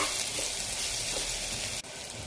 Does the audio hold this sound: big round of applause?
no